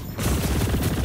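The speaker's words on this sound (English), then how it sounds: "Oh, a turret." Automated security turret in the video game Chorus firing a rapid, steady burst of gunfire, loud and close, with the fast repeated shots starting abruptly after a brief lull and continuing to the end.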